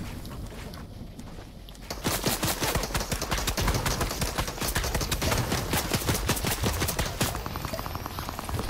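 A drum gun fires in a video game: after a quieter opening, a long rapid stream of loud, dense automatic shots rattles on for several seconds without a break.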